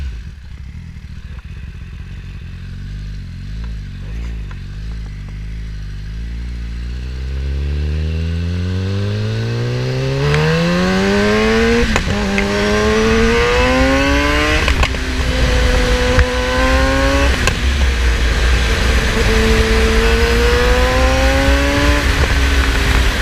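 A 2020 Kawasaki ZX10R sport bike rises from a low idle into repeated climbing revs, the engine pitch sweeping up through the gears and dropping back between shifts, loud and close throughout.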